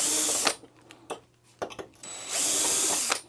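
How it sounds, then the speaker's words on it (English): Screws being taken out of chandelier packaging with a screwdriver, heard as a few short clicks and scrapes, then two longer bursts of grinding, whirring driving, close and fairly loud with no talking. "With a screwdriver, remove all the screws."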